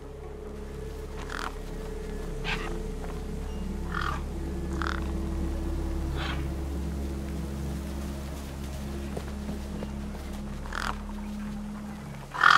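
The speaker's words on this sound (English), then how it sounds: "No way I was going to get between those birds and their feast." Crows caw in short, repeated bursts over a steady low ambient drone as they feast on something in the video game Beyond a Steel Sky, the calls moderately near and spaced every second or so.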